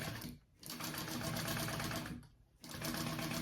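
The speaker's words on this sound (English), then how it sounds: "So this is just 1/8 of an inch stitch that I am doing" Sewing machine basting a 1/8 inch stitch on a Tremont crossbody bag, running in a steady fast whir with two short pauses, close and alone.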